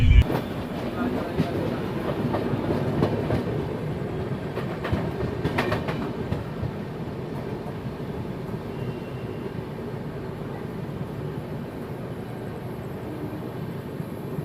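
The Golden Temple Mail passenger train rumbles along the rails near Jalandhar Cantt, a steady low roar with faint clickety-clack heard from inside the coach, fairly constant and moderately loud the whole way.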